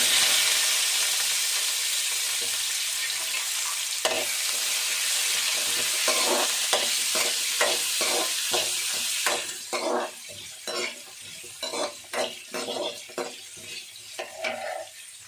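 Onions and black pepper frying in oil in a pan for an egg curry, a dense hiss of sizzling that gives way to a series of rhythmic scraping stirs of a utensil against the pan, close and fairly loud.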